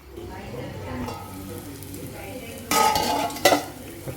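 Prawn masala with onion and tomato sizzles in a pan while a spoon stirs and scrapes through it, with a continuous close frying hiss and louder stirring scrapes in the last second and a half.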